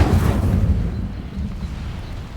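An Incendio fire spell cast in a Hogwarts wizarding game bursts out as a loud, deep whoosh and rumble that fades over a couple of seconds, alone.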